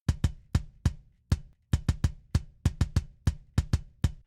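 A Tama Star Classic kick drum sample hits in a punchy, deep thump, each beat played alone with a sharp attack and quick decay, repeated about fifteen times in an uneven pattern.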